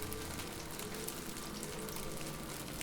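Meat frying over a campfire in the video game Morrowind: a steady, dense crackling sizzle with fine pops, close and continuous without a break.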